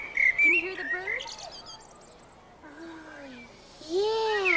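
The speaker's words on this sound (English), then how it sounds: "Can you hear the birds?" Birds chirp and trill in a sunny outdoor spot on a children's show, a mix of short tweets and rising whistled calls, moderately close and fairly soft with no one speaking.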